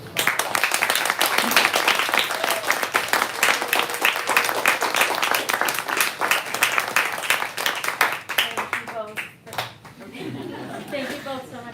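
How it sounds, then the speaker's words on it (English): A literary reading audience gives the two poets a warm, sustained round of applause with some chuckling and chatter, the clapping loud and dense before tapering off as voices take over near the end. "let's give our poets one more round of applause"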